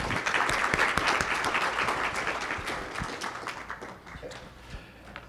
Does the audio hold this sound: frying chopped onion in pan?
no